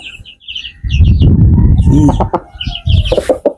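Jersey Giant chickens cluck and call loudly at close range, with bursts of throaty clucks and sharper squawks overlapping in quick, irregular runs.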